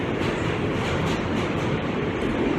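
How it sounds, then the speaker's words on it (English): New York subway J train in motion, heard from inside the car: a loud, steady roar of wheels and rails with faint rhythmic rattling, no talk. "We're on the J train."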